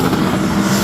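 A roaring, strained engine note from a 2,200-horsepower Lamborghini STO accelerating hard down a roll-racing lane in Adelaide, loud and continuous through a very brief moment.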